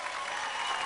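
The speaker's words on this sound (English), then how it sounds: "How about a round of applause for this nice young lady and our good sport right over there?" A brief burst of studio audience applause on a television show, a continuous, even hiss of many hands clapping, fairly loud and with no voices over it.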